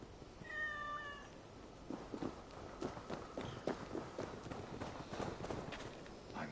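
Cat meows in the video game Assassin's Creed Valhalla, a short, clear meow near the start, followed by a steady patter of trotting footsteps and hooves with faint background sound.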